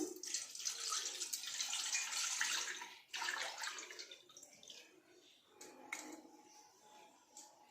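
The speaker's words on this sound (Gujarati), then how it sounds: "તે જ વાસણની અંદર આપણે આ પાણીને ટ્રાન્સફર કરી દઈશું" Water poured into a metal vessel in splashing streams, close and fairly quiet, pausing briefly before pouring resumes with a few clinks.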